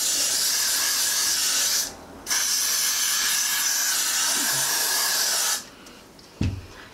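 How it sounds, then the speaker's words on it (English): Got To Be glue spray hisses onto the edges of the hair in two long, steady bursts, close and loud, with a short pause between them and quiet at the end. "I'm going to use my Got To Be glue spray, and I'm just going to spray the edges of my hair"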